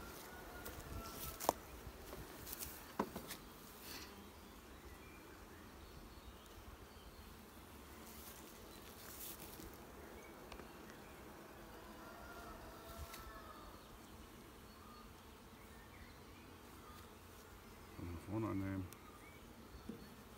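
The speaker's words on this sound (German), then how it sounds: "Schön dicht mit Bienen gesetzt." Honey bees buzz continuously inside an open hive stacked with honey supers, a steady close-up hum with brief knocks and handling noises throughout.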